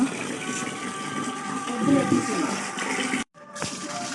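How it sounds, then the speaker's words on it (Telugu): Water pours steadily from a tap or pump as it is collected on a farm, a continuous close rushing that briefly cuts off near the end, with faint voices in the background. "నీళ్లు పడుతుంది మా అమ్మ"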